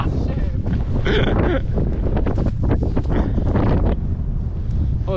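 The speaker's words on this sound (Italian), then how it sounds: "Oddio, che vento." Strong wind buffets the microphone with a continuous loud roar and rumble, with faint voices in the mix.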